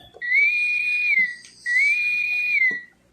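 Two sustained electronic whistling tones from a toy Star Trek Enterprise starship's warp drive button, each rising slightly then holding, separated by a brief gap, with faint clicks beneath.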